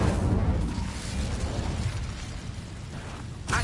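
A burst of fire from the Incendio spell cast in Hogwarts Legacy, a loud crackling whoosh that flares up at once and sustains briefly before fading, alone without talk.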